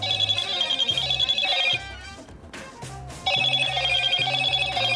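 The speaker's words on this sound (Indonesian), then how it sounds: "Ini ringtone-nya ringtone Moto banget sih." A Motorola Moto G45 phone plays its ringtone loudly up close, a bright repeating melodic phrase over a low bass pulse, with a short quieter pause in the middle before the tune resumes.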